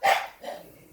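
A dog gives one short, loud bark close by, with a softer follow-up yelp trailing off.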